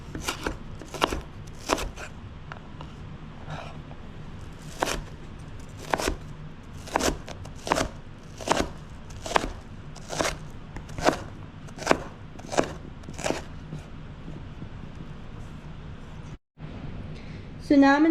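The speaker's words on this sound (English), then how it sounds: "This is how I cut my onions." Onions being diced very finely with a knife on a cutting board, a steady run of sharp, close chops in an even rhythm that stops near the end.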